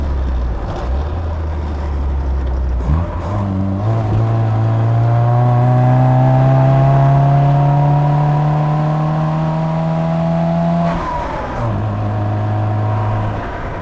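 A 1975 Austin Mini's engine revs up through the gears from inside the cabin, pitch climbing steadily, then dropping at a shift before settling again.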